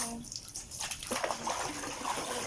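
Water splashes and sloshes in a basin as a small puppy named Potpot is bathed and has its head wetted, with steady splashing broken by irregular bursts of movement.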